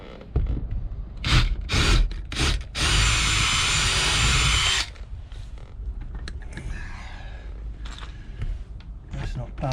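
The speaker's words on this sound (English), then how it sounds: "let's try to get these top screws in if we can" A power driver sets screws into a porthole window frame, starting with several short whirring bursts and then a longer steady run. Low rumbling and creaks follow, and a voice is heard in the background.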